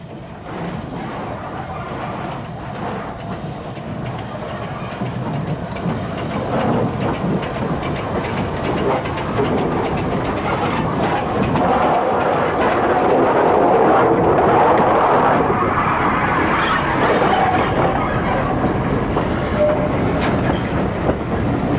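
Steam locomotive 46203 runs along the line at the Midland Railway Centre, a continuous rumbling roll with hiss and wheel clatter that builds louder as it nears, with no speech over it.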